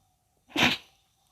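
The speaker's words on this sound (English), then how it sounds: "I just sneezed." A single sharp human sneeze, close and loud, bursting out of near silence and fading within half a second.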